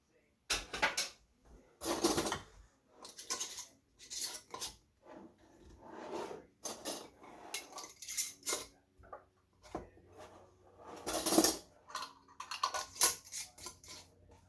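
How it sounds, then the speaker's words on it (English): Metal canning jar lids clink, scrape and rattle as they are handled and pulled apart, a series of close, sharp bursts with gaps between them, with people talking in between. "Got 2 lids stuck together here."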